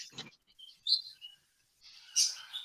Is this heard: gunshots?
no